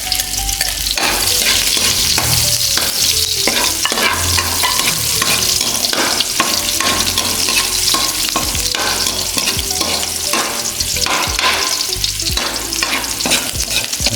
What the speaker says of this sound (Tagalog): Yan, pag medyo brown na, lagyan natin yung sibuyas.